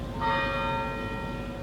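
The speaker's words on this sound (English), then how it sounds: "It's like the two bells. You hear one and then you hear the other." A bell on a resort property strikes once and its clear metallic tone hangs and slowly fades, fairly loud and alone with no voices.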